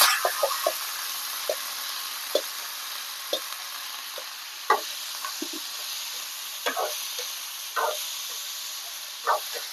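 Diced elephant foot yam goes into a pan of frying onions, bringing a steady hiss of sizzling oil broken by scattered crackles and soft scraping stirs, close and continuous.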